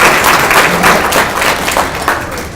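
An audience claps in thanks for Lee, a steady, dense burst of applause that rolls on for a couple of seconds, full and close, gradually thinning toward the end.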